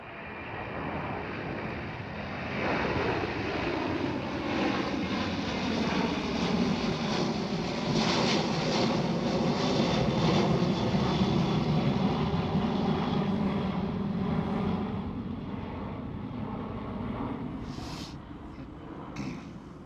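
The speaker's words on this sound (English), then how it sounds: "KLM, Airbus A330." A KLM Airbus A330 at Amsterdam Schiphol Airport rumbles by with a broad engine roar that builds to a peak mid-way and slowly fades, heard alone at moderate distance.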